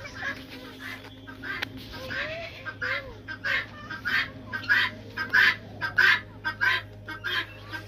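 Chickens clucking on a large farmhouse property kept in a village-style setting, with repeated close, rhythmic bursts of clucks and squawks growing louder over a steady low background hum.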